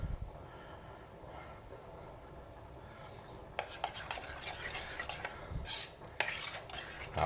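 Utensil stirring grated cheddar cheese into pasta sauce in a pan on a hob, soft scraping and light clinks against the pan over a low background hum, growing busier toward the end.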